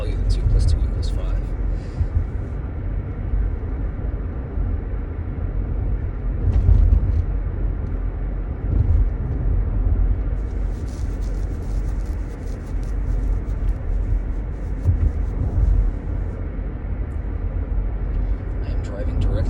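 Steady low road rumble from a car driving toward the sun, a continuous engine and tyre drone at even loudness throughout, with faint intermittent higher hiss, and no talk over it.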